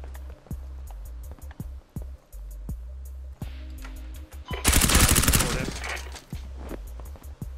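Gunfire in a dark-map PvE video game shooter: sharp single shots pop at irregular intervals, then a dense, loud burst of rapid automatic fire, with a voice speaking briefly in between.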